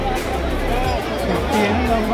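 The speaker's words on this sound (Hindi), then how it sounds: "गांधी जयंती पर देखो भीड़ कितनी है।" Dense crowd babble at Har Ki Pauri ghat in Haridwar on Gandhi Jayanti, a holiday, with many overlapping voices forming a steady, close hubbub and no single speaker standing out.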